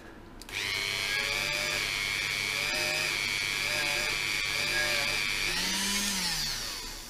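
A high-pitched power tool whines steadily for several seconds while porting the front forks of a Ducati 900SS bevel-drive motorcycle, holding a constant pitch before slowing and winding down at the end.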